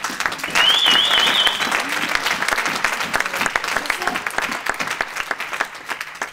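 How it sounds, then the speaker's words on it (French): A church congregation claps and cheers, with dense rhythmic applause and a whistle or shout above it early on, then the clapping thins into scattered claps. "Acclame d'abord ton Yeshua."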